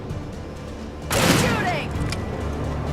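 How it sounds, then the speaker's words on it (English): A sudden loud blast of gunfire from the Alan Wake video game bursts in after a low rumbling ambience, ringing out and trailing into a sustained noisy decay. "Shooting!"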